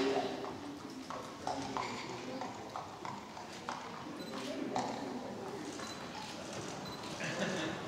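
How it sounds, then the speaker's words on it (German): Rhythmic hoofbeats from an Icelandic horse foal moving at tölt, an even, quick clip-clop that carries steadily throughout while a commentator talks over it. "Das Fohlen hat so ganz akzentuierte, hochweite Bewegung, gute Schwebephase, immer wieder viel Tölt zwischendurch."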